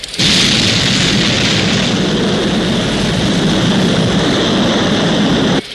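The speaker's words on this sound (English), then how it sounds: "We have liftoff." A rocket lifts off with a loud, sustained roaring rumble that fills the sound up close, cutting off abruptly just before the end, and no voices are audible.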